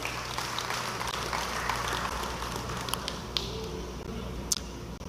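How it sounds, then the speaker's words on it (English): An audience at the Tobago People's Party manifesto launch applauds in a steady, dense wash of clapping that runs the whole time, slightly distant, with a few sharper claps standing out. "Give that a round of applause."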